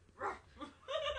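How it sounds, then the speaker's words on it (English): A dog gives a few short, faint yips and whining barks at a distance, three quick bursts within about a second. "Scottish pirate dog is on the attack."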